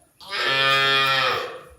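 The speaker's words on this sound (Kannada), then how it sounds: "ಗೋಶಾಲೆಯ ಕರುಗಳೆಲ್ಲ ಇಲ್ಲಿ." A calf in a cow shelter lets out a single long, close moo that swells and fades over about a second and a half.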